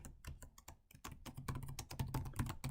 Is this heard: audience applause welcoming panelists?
no